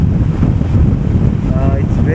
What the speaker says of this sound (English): But here it's very windy.